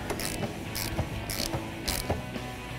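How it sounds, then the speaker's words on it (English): Ratcheting clicks come from a wrench tightening a 1/2-inch drain plug on an RV water heater, with short repeated bursts of clicking at a steady rhythm, close and moderately loud. "then you wanna tighten your plug all the way down"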